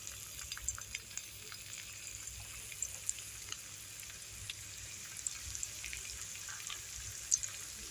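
Chopped ginger sizzles in hot mustard oil in a wok, a steady soft frying hiss with small crackling pops scattered throughout, close and fairly quiet, with no talking.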